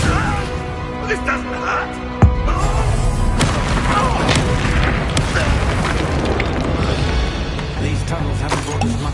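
A Confringo spell blast in the Hogwarts Legacy video game: a sharp, booming explosion with a crashing burst around two seconds in, followed by rumbling game ambience as a voice speaks.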